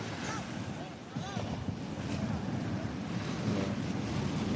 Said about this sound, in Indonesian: Ini suasana pantainya nih.